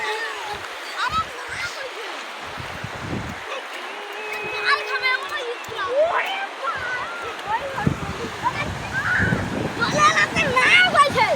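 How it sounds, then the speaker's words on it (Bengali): Sea waves wash onto the beach at Digha, a steady surf and splash with wind buffeting the microphone, heard under people chatting nearby. "ওই এই ঢেউটা জোর দেখ দি, জোর নাই ঢেউটা।"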